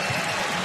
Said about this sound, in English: That got the crowd going right there